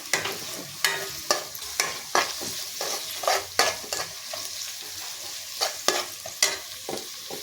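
Chopped egg sac pieces and onion fry in oil with a soft sizzle, punctuated by regular sharp scraping stirs of a spatula against the pan, close and fairly quiet.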